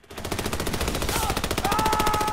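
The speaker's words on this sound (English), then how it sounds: "I'm getting shot in the back" Sustained automatic gunfire from the video game Army of Two: The Devil's Cartel, a dense continuous rattle of rapid shots that stays loud throughout, with a faint tonal whine rising partway through.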